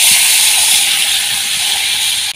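Water poured into hot oil with chili, turmeric and salt, a loud, close, steady hiss of steam and sizzle that holds evenly before cutting off abruptly.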